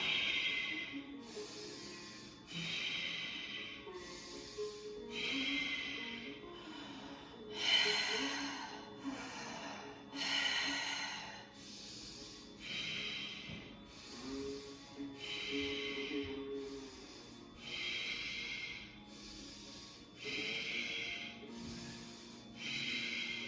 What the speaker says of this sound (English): Don't even let the breath finish. Just pump. Inhale. Exhale.